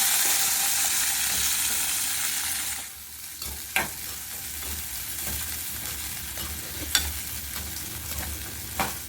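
Oil frying in a clay pan on the stove: a bright, hissing sizzle that eases down partway, then continues with a few sharp stirring clicks, near and alone.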